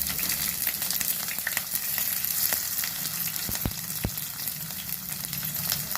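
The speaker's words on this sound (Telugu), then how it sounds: "కొంచెం ఆవాలు వేస్తున్నాను. ఇప్పట్లు ఆడిన తర్వాత ఇదిగోండి పచ్చిమిర్చి, ఉల్లిపాయ ముక్కలు." Mustard seeds, green chillies and chopped onions fry in oil with a dense, steady sizzle and crackle, plus a few brief knocks from a utensil against the pan, without speech.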